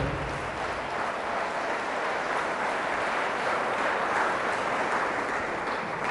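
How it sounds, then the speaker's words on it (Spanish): Dense, steady applause from a large crowd at a religious gathering, sustained at an even loudness throughout with no pauses. "Fuertes aplausos a Jesús de Nazaret"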